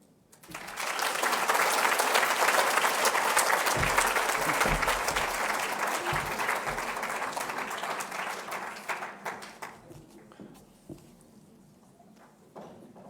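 Applause from an audience at a volunteer awards ceremony, a dense, loud burst of many hands clapping that swells quickly, holds for several seconds, then thins and fades toward scattered claps near the end.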